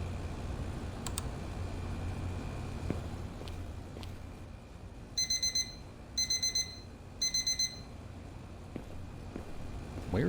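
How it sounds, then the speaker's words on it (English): An electronic alarm rings in an indie horror game, three short bursts of rapid, high, chirping beeps, each group of pulses separated by a pause, over a low, steady ambient hum with occasional clicks and no talking. "Where is that alarm?"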